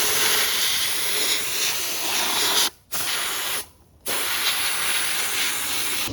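Engine paint primer hisses from a spray can onto an engine ring from a 1978 280Z engine, a loud, steady close spray broken by two short pauses between passes.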